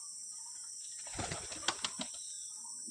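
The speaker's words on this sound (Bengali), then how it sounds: "যে সব পায়রা আস্তে আস্তে বাইরে আসছে" Lotan pigeons leave their loft with a short, close flurry of wing flaps and a few sharp claps, bunched in the middle of an otherwise quiet moment.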